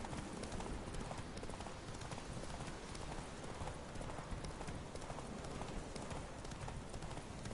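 Horse hooves galloping in The Witcher 3, a steady dense rapid clip-clop rhythm running loud and continuous throughout.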